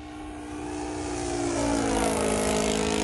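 A Great Planes JU-87 Stuka RC model plane drones steadily overhead in a dive bomb run, its engine tone swelling louder and rising in pitch as it descends.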